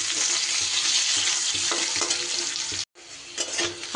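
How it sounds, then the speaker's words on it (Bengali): Potato pieces fry in hot oil in a pan for a light rohu fish curry, giving a steady loud sizzle with stirring scrapes and a brief break near the end. "আমি ভেজে নেব আলু"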